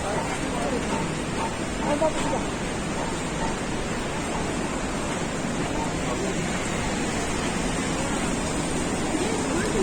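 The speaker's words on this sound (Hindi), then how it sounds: "वो देखिए सरस्वती नदी वो निकल रही है।" Saraswati river rushing near Mana village by the Bhim temple in Chamoli, Uttarakhand, heard as a steady, dense broadband roar of water that holds evenly throughout without breaks.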